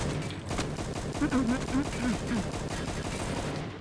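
Rapid bursts of gunfire crackle through a Roblox Dark Moon match, dense and repeated for several seconds, with a voice calling out over the shots.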